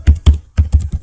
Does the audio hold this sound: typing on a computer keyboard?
yes